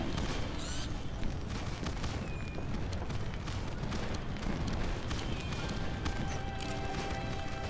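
Dense, unbroken barrage of firework explosions in the video game My Time at Sandrock, crackling bursts and muffled booms overlapping at steady loudness, with a few faint whistling streaks rising above the din.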